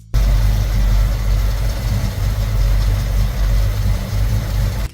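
An Oldsmobile 455 W30 big-block V8 engine rumbles loudly at idle, a deep, steady throb with no voices.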